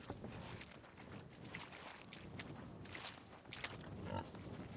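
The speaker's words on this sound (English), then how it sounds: "Pigs are having at it." Pigs jostling in a farm pen, with soft shuffling steps and scattered grunts under a steady, busy rustle close by, no talk.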